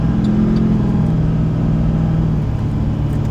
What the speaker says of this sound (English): Hear my truck?